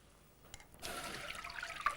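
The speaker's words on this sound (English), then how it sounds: "So then we're going to strain it back into the saucepan" Milk strained from a pan back into a saucepan, a soft liquid pour that starts after a brief quiet moment and runs as a steady close trickle to the end.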